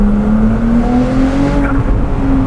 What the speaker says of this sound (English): The turbo whistles on this car is adorable.